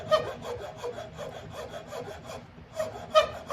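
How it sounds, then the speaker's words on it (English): Razor rasp file removing wood from a guitar neck during carving, giving steady rhythmic rough scraping strokes, close and fairly loud, with a brief lull before a few sharper strokes resume. "with my razor rasp file because I've got a little material to remove there"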